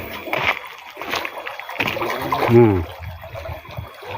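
Overflow water drains through an outlet channel at a nature tourism park, running and splashing steadily nearby while someone talks over it.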